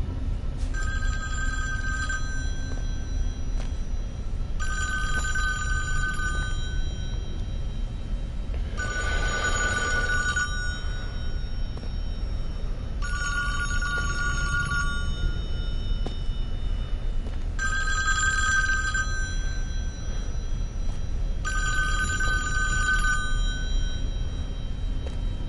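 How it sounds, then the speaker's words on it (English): Telephone ringing inside a cabin in the Friday the 13th video game, a loud repeating double ring in bursts every few seconds over a steady low background hum. "Hey man, answer the phone."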